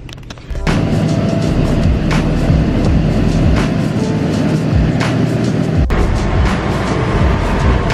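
A school bus runs with a loud steady engine roar and road rumble that starts abruptly and continues throughout, with occasional rattles and knocks, no talking.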